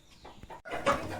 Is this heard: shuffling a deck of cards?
no